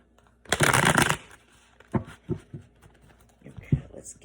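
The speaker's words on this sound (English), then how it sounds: "One more shuffle." Tarot cards being shuffled, a dense burst of riffling near the start followed by several short, softer card taps and slides, close and fairly loud with no talking.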